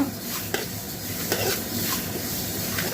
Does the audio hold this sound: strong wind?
no